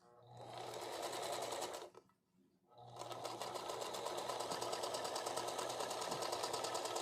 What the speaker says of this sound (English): Now she sews.